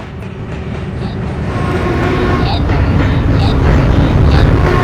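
A D local subway train pulling into the 26th Street–St. Mark's Avenue station, a loud, steady rumble of wheels and motors that swells gradually as it arrives.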